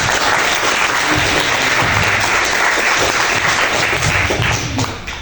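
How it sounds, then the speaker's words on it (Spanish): Loud, full applause fills a hall as an audience at a roundtable on Mariátegui and literature welcomes a speaker, a thick continuous clatter of many hands that tapers off at the close. "lo recibimos con un fuerte aplauso"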